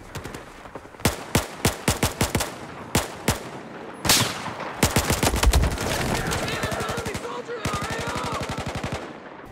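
FAMAS bullpup assault rifle fire in Battlefield 4: a run of evenly spaced single shots, then a sharp blast followed by sustained rapid automatic bursts, loud and close, with faint talk underneath.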